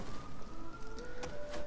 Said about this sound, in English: you can hear sirens in the background